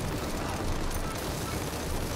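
Explosions in a roguelite bullet-heaven video game form a dense, continuous roar of overlapping blasts, steady and loud throughout with no clear gaps.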